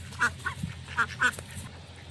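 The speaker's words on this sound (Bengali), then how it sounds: "আমাদের পাতি হাঁসগুলো বেশ বড় বড় হয়ে গেছে" Domestic ducks quack near by at the water's edge, several short nasal calls in an irregular series, moderately loud over faint background noise.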